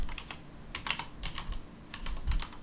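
Irregular bursts of typing on a computer keyboard, quick clusters of key clicks with brief pauses between, close and clear.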